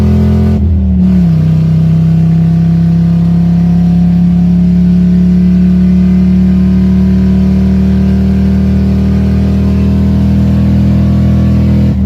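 An Audi Coupe GT Quattro's engine pulls hard at full power, a steady loud drone climbing slightly in pitch and holding for several seconds with no talk over it.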